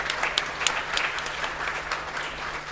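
An audience at a beauty pageant applauds, with steady dense clapping that is loud and close and continues throughout.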